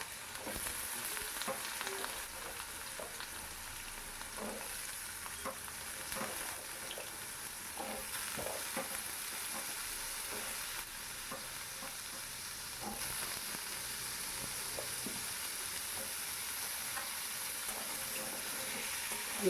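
Cut potatoes frying in a pan for a Bengali-style white potato curry, with a steady hiss of sizzling oil and scattered scraping clicks of a spatula stirring throughout, fairly close and without talk.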